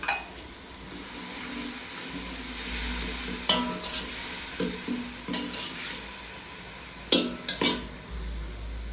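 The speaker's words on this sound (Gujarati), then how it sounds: "મરચાં ટમેટા અને લીમડો વઘાર કરી નાખો મરચાં નાખી દીધા." Loud steady sizzling of green chillies, tomatoes and curry leaves tempering in hot oil, with occasional scraping stirs and metal clinks of a spoon against the pan, close up.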